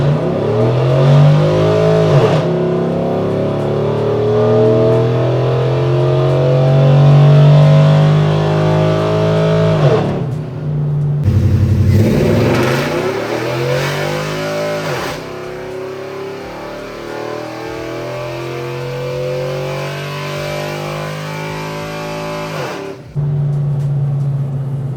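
A truck's engine revs hard under load on a chassis dyno with the converter stalled, rising through repeated pulls with brief drops between runs, loud and close with no talk.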